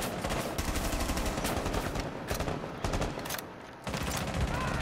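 Rapid gunfire crackles through a Rainbow Six Siege match, dense bursts of automatic shots and fusillades packed close together, loud and nearly continuous with a brief lull before resuming.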